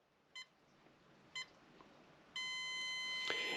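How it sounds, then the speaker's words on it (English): A Self Control locking timer box counting down: two short, evenly spaced electronic beeps about a second apart, then a longer sustained tone, all fairly faint against a quiet room. "It goes through a 5-second countdown."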